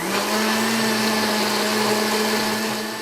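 Electric blender runs steadily, grinding half-fried vegetables, dried shrimp and dried fish into a juice for Hakka lei cha, a loud continuous whir with a constant motor tone throughout and no talk.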